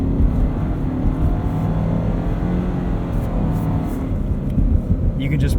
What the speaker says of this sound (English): Let's hop inside and we'll take this BRZ for a drive.